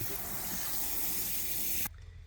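Water pours steadily from a hose or watering can onto garden plants, a broad continuous rushing spray that stops abruptly near the end, leaving faint outdoor ambience.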